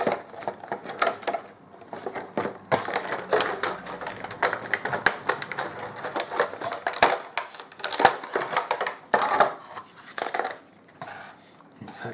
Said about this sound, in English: So let's get this unwrapped and see what we've